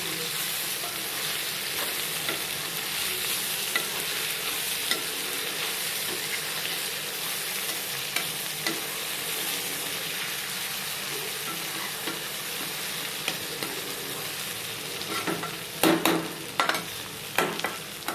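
Eggplant pieces frying in a pan for a village-style vankaya fry, a steady close sizzle with scraping stir strokes, growing louder with sharper clatter near the end; no talking.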